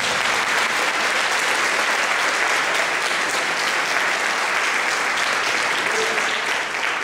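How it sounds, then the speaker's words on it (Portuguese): A church congregation at a Sunday family service bursts into sustained, dense applause, loud and steady from start to finish with a faint murmur underneath. "Ele merece uma salva de palmas por isso."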